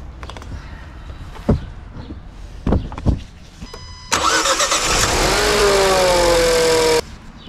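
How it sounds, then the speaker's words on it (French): A Renault Clio 4 starts after a battery change: a few nearby clicks and thumps, then the starter cranks and the engine catches and settles into a steady, loud idle that stops abruptly. "On va faire un petit test de démarrage quand même, au cas où."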